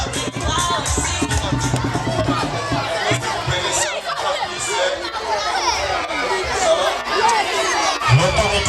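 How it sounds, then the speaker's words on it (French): A crowd at a school cultural day for a May 15 festival chatters, whoops and cheers loudly and continuously, dense babble with shouts filling the whole stretch. "Applaudissez"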